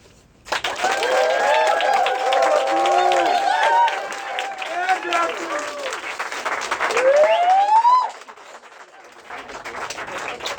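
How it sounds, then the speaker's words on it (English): A crowd at a live poetry show on the Ohio State campus greets the poet Justin with loud applause, rising whoops and whistles, and shouted cheers that swell and then cut off sharply near the end. "With your loudest applause, please give it up for Justin."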